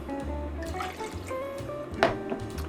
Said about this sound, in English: So we're gonna add just a little bit of water of this to make sure that our carrots are covered.